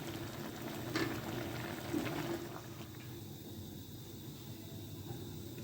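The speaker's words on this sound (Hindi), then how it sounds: "जब वो टमाटर की पटपट होती है" Chopped tomatoes simmer for sauce in an open pot, giving a steady, soft bubbling hiss with a couple of slightly louder pops near the start, close and without voices.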